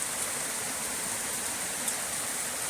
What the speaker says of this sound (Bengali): আবার সেই বৃষ্টি আরো জোরে এসছে।